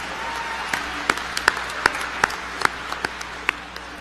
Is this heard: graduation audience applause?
yes